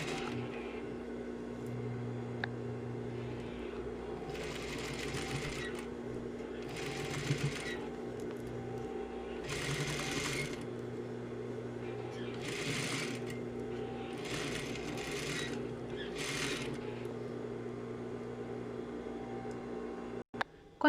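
Sewing machine stitching bias binding onto a neckline, starting with a backstitch and then running steadily at close range, its whirring interrupted by short surges of speed over a constant low motor hum.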